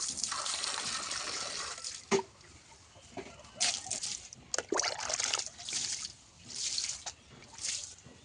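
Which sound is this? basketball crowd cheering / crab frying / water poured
water poured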